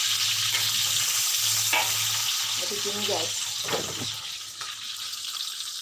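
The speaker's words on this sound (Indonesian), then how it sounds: "aku lagi goreng bawang" Onions frying in a pan give a steady, fairly loud hiss and sizzle throughout, with a few stirring scrapes and clatters partway through and a person briefly talking over it.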